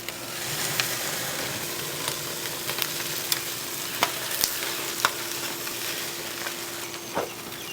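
Butter-basted food sizzles on a barbecue grill, a steady crackling hiss broken by scattered sharp pops and spatters, close and moderately loud with no talking.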